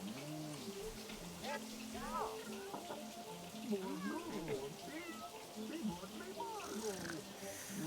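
A cat in The Sims 3 meows repeatedly with rising and falling calls, steady game background audio running underneath throughout.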